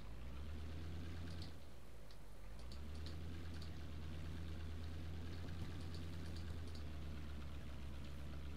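A car engine idles steadily in Garry's Mod, an ACF engine on a wired suspension car, giving a continuous low rumbling hum throughout with no talk.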